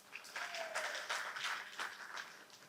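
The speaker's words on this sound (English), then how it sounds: "And an applause." A short burst of audience applause, many hands clapping together at a moderate distance.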